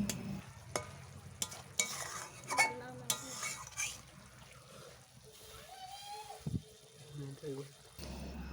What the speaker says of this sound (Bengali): ধনে পাতা দিয়ে ভালোভাবে নাড়াচাড়া করে নামিয়ে নেব